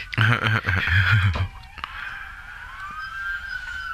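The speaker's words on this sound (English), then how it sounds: "here's our Sunday siren headed to the lake." A wailing police siren sweeps past, its pitch sliding and fading, with someone talking over the first part of it.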